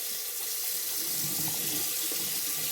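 A kitchen tap runs steadily into a sink while raw chicken is rinsed, a close, even rush of water with faint splashing shifts.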